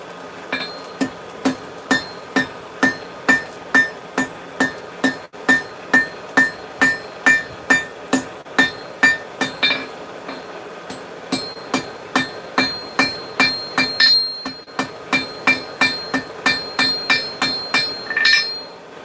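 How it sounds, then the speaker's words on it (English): A hammer strikes hot metal on an anvil during the early stage of a forge weld, with light, evenly paced taps. The ringing, close clinks repeat steadily for about twenty seconds without talk. "It's really important at these early stages of a forge weld that you only give it light taps"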